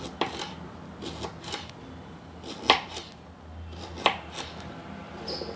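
A knife chopping pumpkin on a board for a kootu, a handful of irregular sharp knocks spread across several seconds, a few strikes landing louder than the rest, with faint kitchen noise between them.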